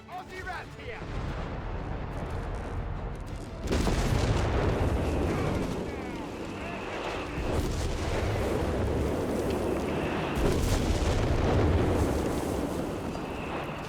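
Artillery fire and explosions in the video game Company of Heroes 3, with heavy booming blasts and rumbling detonations layered over a continuous battle din, while a commentator talks over it.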